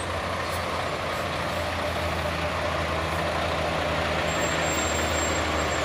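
A parked trailer truck (coaster, plate B) at a truck stop, its engine idling steadily with a low rumble throughout and a faint high whine near the end, no talk.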